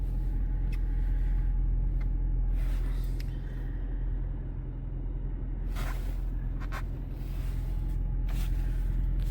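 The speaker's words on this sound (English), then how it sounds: "So I'm going to let it warm up until the idle goes down" A 2023 Audi A5 Sportback idles through a cold-weather warm-up, a steady low engine rumble close by, with a slight dip in level midway and a few faint higher clicks and knocks over the drone.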